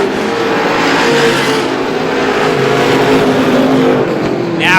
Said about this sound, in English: Now Cashman right on the rear bumper of Tim Boyle for the second position on the racetrack.